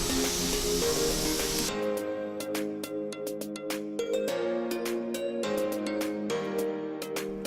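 A spray gun on a low air setting hisses steadily as it paints plastic car interior trim, a broad airy burst lasting under two seconds before steady music with sharp clicks takes over.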